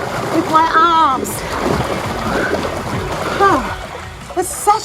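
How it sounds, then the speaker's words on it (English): Arms push and pull through pool water during an aqua exercise crossover kick, producing splashing and sloshing beneath a spoken voice, with bursts of churning water recurring through the stretch. "I'm pushing and pulling through the water with my arms"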